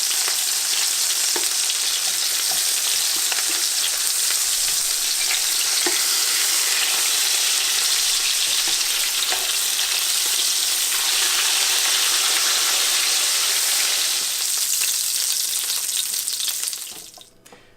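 Wiener schnitzel cutlets fry in hot, lightly smoking oil over medium-high heat, giving a steady loud crackling sizzle that runs almost unbroken for about seventeen seconds before cutting off abruptly near the end.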